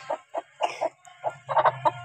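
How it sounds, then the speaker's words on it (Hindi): Aseel chickens, a rooster and a hen let out of their cage, give a run of short, close clucks in uneven bursts, with a faint low hum beneath. "पिंजरा खुल गया है, मुर्गा मुर्गी बाहर आ गए हैं ये दोनों।"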